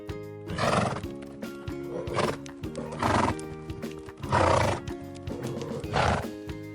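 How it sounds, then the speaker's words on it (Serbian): Hooves of a galloping horse pound in a quick rhythm, broken by several loud bursts of snorting and whinnying spread across the stretch, with soft music playing beneath. "Kada konj trči galopom, njegova kopita prave snažan zvuk."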